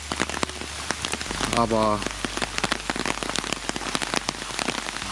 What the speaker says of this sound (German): bei dem ganzen Regen